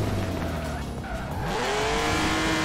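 BMW Z4 with a six-cylinder engine drifting sideways on snow in Forza Horizon 4, a continuous loud engine roar with rising pitch and long tire squeal sliding across the whole stretch.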